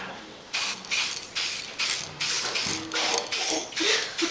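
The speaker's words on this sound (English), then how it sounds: "that can give him another blast or two with the spray" Army Painter Greenskin spray primer can hissing in a run of about eight short, evenly spaced bursts, close and fairly loud, with brief gaps between each spray.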